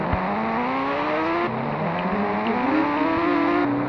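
A Kawasaki Ninja H2 motorbike engine in the video game Indian Bike Driving revs continuously, its pitch climbing through gear shifts in a sustained, loud whine.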